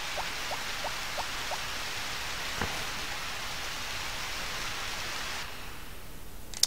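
Rain in a video game makes a continuous, even wash of noise throughout, with a few faint chirps near the start and a small click at the end.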